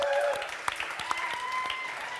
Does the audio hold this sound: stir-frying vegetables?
no